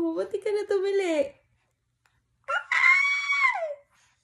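A four-month-old baby lets out two drawn-out, high-pitched squeals separated by a short silence, close and loud, the second rising and held longer than the first.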